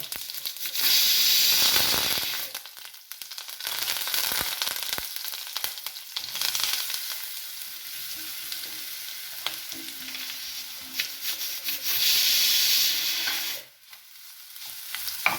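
Urad dal mixture with coconut stir-fried in a hot pan, a steady sizzle and hiss broken by scraping stirs, loud and close, surging and dropping as the spoon moves, with no talking.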